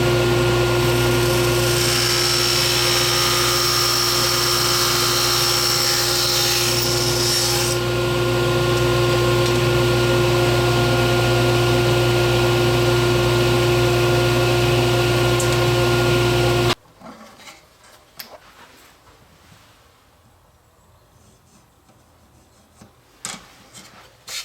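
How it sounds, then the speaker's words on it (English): Flat bar stock is fed through a table saw, and the loud, steady motor whine with a harsh cutting roar carries on for a long stretch. It then cuts off abruptly, leaving quiet shop noises and small knocks. "How do you cut flat bar? Well, you could do it with a hacksaw, or you could do it with the table saw"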